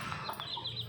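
Hens clucking in a brief burst of short, bright calls over a low background hum, close by, with no voices.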